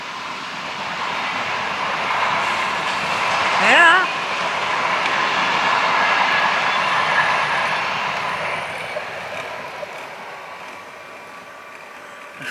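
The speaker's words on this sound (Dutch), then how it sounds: "Kijk, treintje tutut." A train rolls past steadily with a broad rushing rumble that swells and then fades, a brief rising squeal near the start, and a person speaking once.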